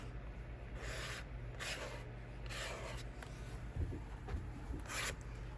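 Watercolor paint scraped on paper to make rock texture, a series of quiet close rasping strokes in short bursts with gaps between, faint and intimate with a steady low background hum.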